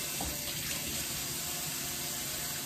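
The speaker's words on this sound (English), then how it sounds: "So I always peel like with the water going." Water runs steadily from a kitchen tap while shrimp are being peeled. The rushing stream is constant and fairly loud and fills the whole stretch, with no talk over it.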